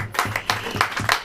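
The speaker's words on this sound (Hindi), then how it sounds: "ताली हो जाओ" Rhythmic congregational clapping in a church, a handful of sharp, evenly spaced claps in quick succession over a low steady hum.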